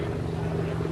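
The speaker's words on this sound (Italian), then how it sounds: "Cos'è l'elicottero di Schwarzenegger?" A helicopter flies near a group on a bus excursion, its rotor giving a loud, steady low thrum throughout the short moment.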